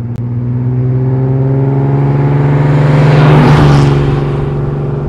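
A 1935 Frazer Nash BMW 315 sports car's engine runs close and loud with a steady low throb, rising into a rev and then settling back, with no talk.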